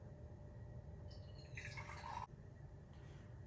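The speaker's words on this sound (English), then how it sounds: "So now I'm gonna pour into my drinking mug" Brewed coffee pours from a Hario Switch dripper into a drinking mug, a faint, soft liquid trickle rising for under a second amid low room hiss, with no talk.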